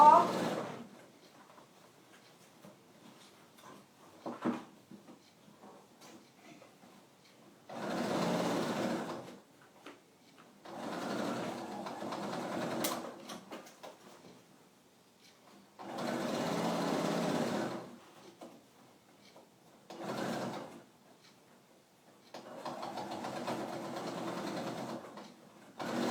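A sewing machine stitching a patchwork notebook case runs in several separate bursts of steady mechanical whirring, a few seconds each, with quiet pauses between; fairly soft and close, with occasional talk.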